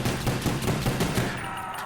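Rapid gunfire in the Kino der Toten map of Call of Duty: Black Ops zombies, a dense string of close, loud shots with no pauses, fading away near the end.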